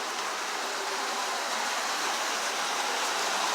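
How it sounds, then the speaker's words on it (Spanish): Water runs through the underground Templar tunnel in the ancient city of Akko, Israel, a steady, even rushing hiss that holds constant throughout with no voices. "Y vemos acá agua que corre por aquí."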